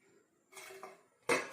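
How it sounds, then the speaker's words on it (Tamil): A soft clatter of kitchenware, then a sharper metallic clank as a plate settles over a pot, close by in a quiet room. "தட்டு போட்டு கொஞ்ச நேரம் மூடி வச்சிடணும்"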